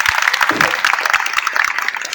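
Applause rings out at a Turkish civil wedding ceremony just after the couple is pronounced husband and wife: dense, steady clapping from a gathered crowd lasting a couple of seconds.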